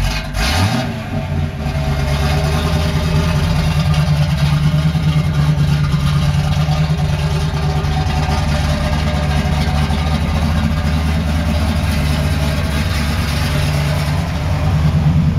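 A 1970 Pontiac Trans Am V8 with a Flowmaster Force 2 two-and-a-half-inch exhaust starts up and settles into a loud, steady, deep idle rumble close by, with no voices over it.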